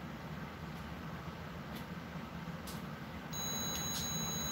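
A household alarm beeps in short faint pulses at first, then a steady electronic tone cuts in near the end, over a low hum and room noise, with no talk.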